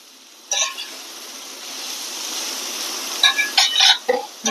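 Cauliflower for poriyal stir fries in a pan, a steady sizzle with soft scraping and clinks of a spatula against the metal, louder stirring strokes near the end.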